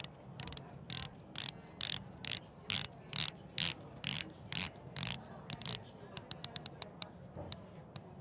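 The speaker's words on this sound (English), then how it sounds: "Unidirectional rotating bezel" Unidirectional bezel on a Zenith Defy diver watch ratcheting as it is turned, a run of crisp close clicks in a steady rhythm that speeds into quicker bursts near the end, over a faint room background.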